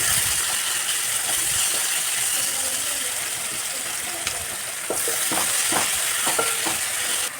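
Onions frying in a pan with green chillies, a loud steady sizzle under repeated scraping and clattering strokes of a spoon stirring, the stirring growing busier toward the end.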